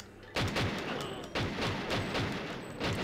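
Gunfire in the video game 007 GoldenEye, a bunker level, bursts of rapid repeated shots in quick succession, loud and close.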